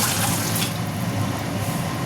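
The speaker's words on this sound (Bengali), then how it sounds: "আমার মনে হচ্ছে আর একটু জল লাগবে" Water pours steadily into a pot of pea and mango dal, a close, continuous splashing gush that softens slightly after the first moment.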